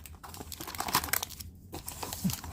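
Crinkling and tearing of packaging as a large hobby box of 2024-25 Upper Deck Series 2 trading cards is pulled open, close and uneven with scattered crunches.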